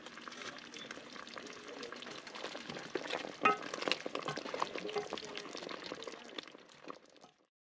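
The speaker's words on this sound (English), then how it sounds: "you're going to cover this up and you're going to cook this until the sweet potatoes are nice and soft" Sweet potatoes for candied yams cook in a covered pot, giving a soft, steady bubbling and sizzling simmer at low volume for several seconds before it fades out.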